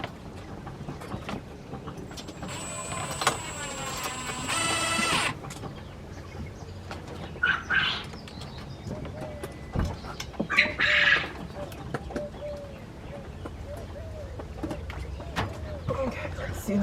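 Quail in an aviary give a few short, bright chirps and calls at moderate distance, scattered between rustling, handling noises and a brief loud mechanical burst, while a person talks to the birds.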